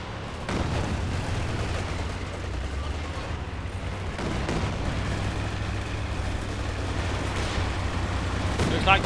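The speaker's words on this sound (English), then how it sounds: "Katyusha's firing away" Katyusha rocket artillery firing in the video game Company of Heroes 2, heard as a dense rumbling barrage with repeated sharp bursts over a continuous low drone.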